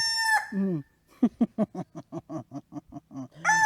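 A rooster crows close by, then a rapid run of loud clucks follows, ending with the start of another crow.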